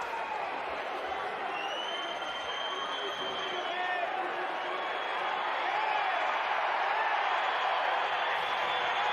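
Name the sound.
basketball arena crowd reacting during free throws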